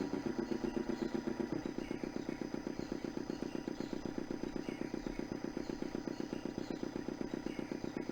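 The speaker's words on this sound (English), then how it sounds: "The motor spluttered into life." Small motor in the Broken Sword II video game spluttering into life, then settling into a fast, even chugging rhythm that runs steadily throughout with no talk.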